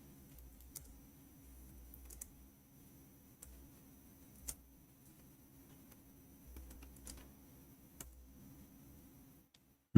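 Someone types on a computer keyboard in scattered, irregular clicks, soft and close, with occasional sharper keystrokes and a low steady hum behind them.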